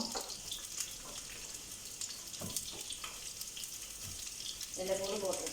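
Something frying in oil before onions go in, a steady broadband sizzle running throughout with small clinks, and a brief voice near the end.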